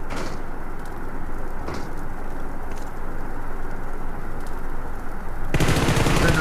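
Automatic gunfire in the BGMI mobile battle royale game, a sustained crackling burst that swells into a louder, sharper volley near the end, with no clear speech over it.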